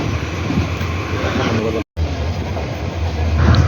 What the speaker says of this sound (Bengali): কমলাপুর স্টেশন থেকে আমাদের ট্রেনটি ছেড়ে যায়।